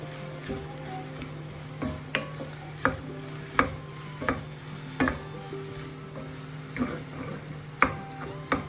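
Green peas being stirred into an egg masala in a pan, a spoon scraping in steady, regular strokes about once a second over a soft sizzle, close and clear with no talking.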